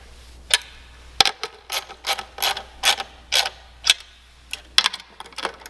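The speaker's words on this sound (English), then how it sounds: "I'm going to tighten those just until I feel the lock washer depress" Mounting bolts with lock washers being tightened on a KitchenAid Artisan stand mixer motor, a series of close, crisp metallic ratcheting clicks in short irregular bursts with quiet gaps between.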